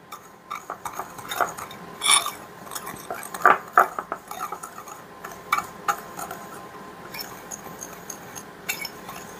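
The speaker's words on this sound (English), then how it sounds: "Going to take a whisk, and we're going to just whisk that up" A whisk beats the mixture for candied pecans in a bowl, making close, irregular metallic clinks and taps that come in uneven bursts.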